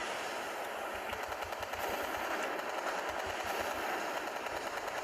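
Warship guns in the naval game Warship Craft fire in a rapid, steady rattle of repeated shots, continuous and loud across the whole stretch with a dense roar behind.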